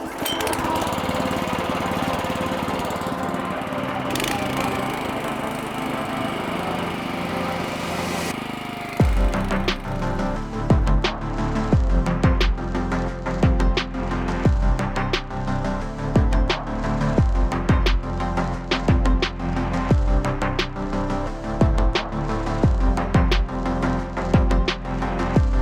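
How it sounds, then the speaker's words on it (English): Broadcast top dresser spreading sand: a motor drones steadily at first, then fires up into a loud rapid clattering run with regular mechanical beats, close by and continuous, with no talking. "Let's kick it up. Let's get it running."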